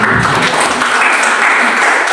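Congregation at a church service held in an apartment building claps after a song, a loud, dense, even burst of hands filling the short moment.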